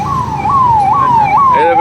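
An ambulance siren on a badly damaged road, wailing in repeated rising-and-falling sweeps, loud and close, with traffic noise underneath and another vehicle's tone joining near the end.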